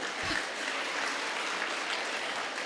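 An audience at a school awards ceremony claps steadily, a continuous wash of hands that holds at an even level for a few seconds.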